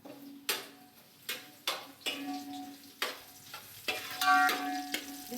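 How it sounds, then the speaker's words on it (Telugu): Water sizzles in a hot pan, with a steady hiss broken by repeated sharp bursts and soft clinks, up close and without talk. "వాటర్ వేసేస్తాను"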